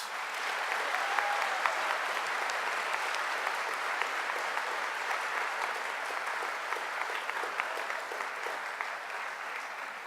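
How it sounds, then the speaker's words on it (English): An audience applauds guest speakers at a discussion event, a steady, dense round of clapping sustained evenly for about ten seconds with no voices over it. "Let's give them all a round of applause, please."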